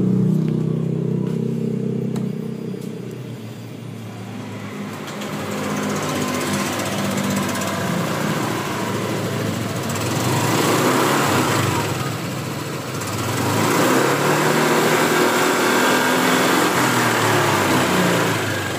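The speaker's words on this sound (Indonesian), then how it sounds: "Sekarang kita akan coba tes nyalakan ya" A Honda Vario scooter, previously blowing white smoke from its exhaust, starts and keeps running with a steady, loud engine drone. The revs rise and fall in waves over close workshop noise.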